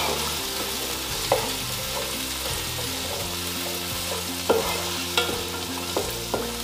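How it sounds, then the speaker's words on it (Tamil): Green peas sautéing in ghee with dry fruits and green chilli for pulao, a steady close sizzle with occasional scrapes and taps of a spoon stirring through the pan. "கொஞ்சம் கலர் சேஞ்ச் ஆகிற வரைக்கும் இந்த க்ரீன் பீஸில் கொஞ்சம் ஒரு 2 நிமிஷம் வதக்கி விட்டுக்கலாம்"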